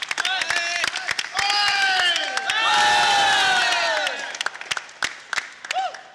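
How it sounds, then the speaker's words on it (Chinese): A group cheers and applauds for themselves after a first-time martial arts lesson, a burst of claps and excited shouting swelling mid-clip, with scattered sharp hand claps and voices around it. "好，来自己掌声一下"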